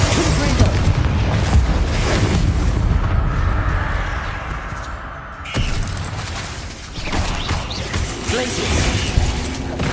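Bombarda and Confringo spell explosions in Hogwarts Legacy, heavy booming blasts and crashing debris with rumbling low end, loud and close, under a voice calling out.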